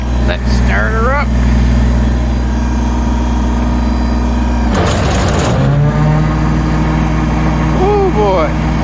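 A tractor engine starting up to drive a brush hog mower in snow: a steady loud idle rumble, a sudden burst of cranking and catching midway, then a continued running drone with a voice speaking over it.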